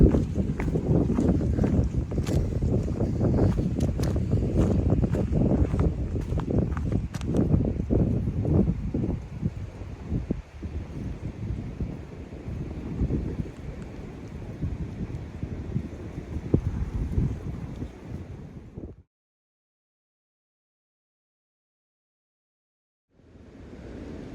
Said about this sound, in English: The wind, man, the wind is still just whipping through.